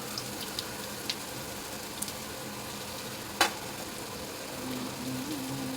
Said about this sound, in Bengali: তেল দিয়ে এবার আমি ধোকলাগুলো ভাজতে দিয়ে দিলাম।